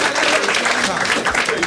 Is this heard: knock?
no